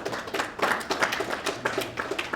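Scattered clapping from a small audience at an art and science evening, a few pairs of hands tapping irregularly and fairly close, thin rather than a full roar, with no talking over it.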